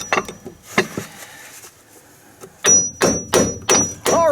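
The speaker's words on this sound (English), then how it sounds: "you could use the butt end of a wooden handled hammer, or you could use a wooden dowel or something and just kind of gently tap it into position" A hammer taps a front coilover shock into its mounting position on a 2014 GMC Sierra or Chevrolet Silverado truck: scattered sharp knocks early, then a quick run of louder, ringing metallic hits close by.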